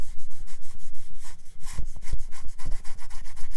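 Steady, rhythmic scraping and rubbing of a brush or tool across rough watercolor paper, close and fairly loud, repeating in quick strokes with no talking.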